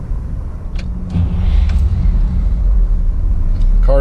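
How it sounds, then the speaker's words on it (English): A 1963 Cadillac Fleetwood Series 75 nine-passenger limousine turns over and settles into a low, steady idle rumble, loud and close, with a few faint clicks along the way and a voice breaking in at the end. "Car starts right up."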